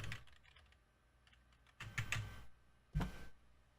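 Clattering keystrokes on a computer keyboard, scattered light taps followed by two louder clustered bursts of key presses, close up in a quiet room.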